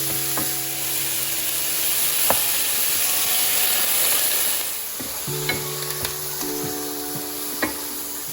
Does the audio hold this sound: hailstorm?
no